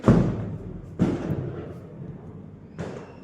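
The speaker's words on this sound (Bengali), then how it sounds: "বাইরে দেখি কি অবস্থা যা ফটা ফাটছে বাপরে" Firecrackers burst outside during Kali Puja, three loud separate booms about a second or two apart, each with a short decaying rumble, close by and with no talk over them.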